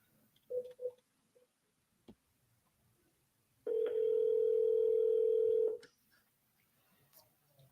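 A telephone dial tone comes in during a call after a few short beeps, holding steady and loud for about two seconds before cutting off, with faint room noise around it.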